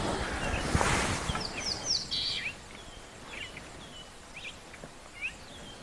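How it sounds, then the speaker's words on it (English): A violet-backed starling calls on a safari morning in the bush, giving several brief, thin, high chirps and whistles scattered at moderate distance over faint ambient rustle. "I definitely heard a violet-backed starling calling."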